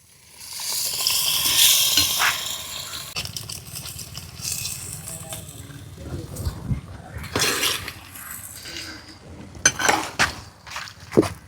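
Boiled mutton pieces dropped into frying masala for a goat curry, a sharp hissing sizzle that flares loudly at first, then settles into softer crackling with clinks of a pan and spoon.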